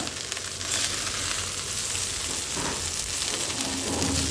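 Fried rice made from leftover rice with potato and egg, stirred in a hot pan: a loud, continuous sizzle with a faint scrape of stirring throughout.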